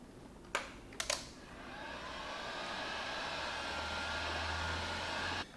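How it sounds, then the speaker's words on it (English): A heat gun blows steadily while warming the vinyl wrap seam on a Ford Mustang S550 side mirror cap, preceded by a few sharp clicks and handling knocks, then switching off at the end. "Now what I'm gonna do is heat that seam up, so that way I don't have to worry about it moving at all."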